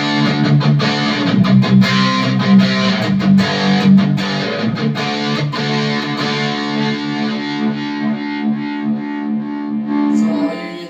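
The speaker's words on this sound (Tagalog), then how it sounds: "So, yun yung tunog ng Les Paul ko" A Les Paul electric guitar is played through heavy distortion, with thick sustained chords and ringing notes that hold and slowly decay, loud and close with no talking.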